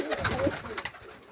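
A short burst of cooing from a fancier's loft pigeons, including a blue-tailed one, comes close and moderately loud, a few warbling notes fading out toward the end.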